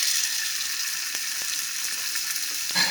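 Chicken pieces sizzling in hot oil in a pan, a loud, continuous bright frying hiss with a few crackles and small pops, close and alone with no talking.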